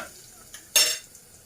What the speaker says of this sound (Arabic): ده نحمر الثوم